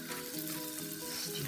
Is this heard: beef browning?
yes